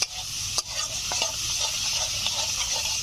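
Potato and spice masala sautéing in a pan for a fish curry, a dense continuous sizzle with the occasional scrape of a spatula, close and fairly loud, and no talking.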